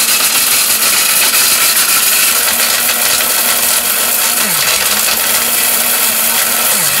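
A 1200-watt electric blender running at full power: a loud, continuous high-pitched motor whine with a steady grinding roar that briefly dips and shifts in pitch as the load changes, close-up and alone.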